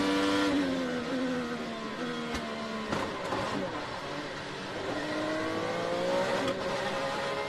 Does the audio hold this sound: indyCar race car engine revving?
yes